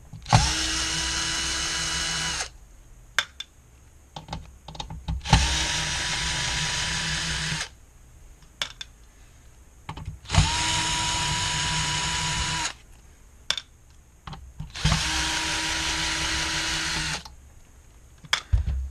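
A cordless power drill backs screws out of an ET1747L appliance in four separate bursts, each a loud whirring motor run of a few seconds with quiet pauses between.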